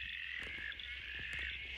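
A northern heath frog calls at night beside a permanent pond, a faint, steady trilling that repeats without a break, with a few soft clicks and knocks close by.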